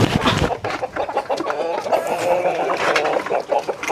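Rhode Island Red chickens cluck and squawk busily at feeding time on a poultry farm, a dense, continuous flock chatter heard up close.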